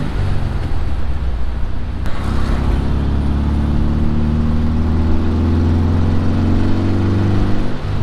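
A Volkswagen car drives at cruising speed with a steady, loud engine drone and road noise. A brief knock comes early, then the engine note holds smooth and even throughout, with no voices.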